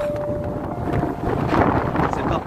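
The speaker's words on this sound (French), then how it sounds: "c'est pas possible ce vent de pénible là, casse-pied, vraiment casse-pied" Outdoor wind buffeting a microphone near a bridge, a continuous low, rough rumble that swells and dips without letup.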